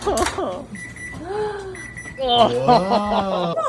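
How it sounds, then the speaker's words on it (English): Electronic beeping from a kitchen timer or smoke alarm, steady high tones repeating in a home kitchen while people talk over it. "Is that the timer or the smoke alarm that just went off?"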